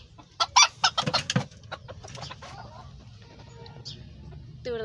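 Hens and a rooster in a backyard coop cluck and squawk in a loud close burst at first, then settle into softer scattered clucks and calls, with faint outdoor background.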